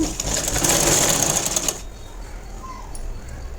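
A sewing machine stitching blouse fabric pieces together runs in a loud, fast, steady whir for nearly two seconds, then stops, leaving a quiet room.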